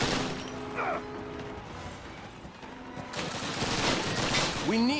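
Battlefield gunfire from a Call of Duty assault on the Reichstag in Berlin, with an MG42 machine gun among it: a steady wash of shots and blasts at moderate loudness over several seconds, with voices mixed in.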